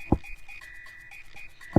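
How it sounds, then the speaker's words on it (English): Croaks from a frog character in the Super Mario RPG video game sound alone, a few sharp croaks at the start and end with soft repeated game tones between them. "Oh my god, it's a floating frog!"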